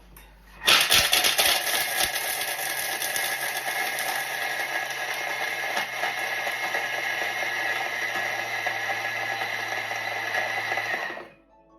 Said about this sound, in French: on tourne notre vitesse 10 pendant 10 secondes